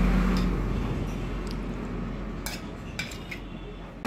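Dhaba-style palak paneer spooned from the cooking pan into a serving dish: quiet soft scraping with a few light metallic clinks of spoon on vessel, no talk.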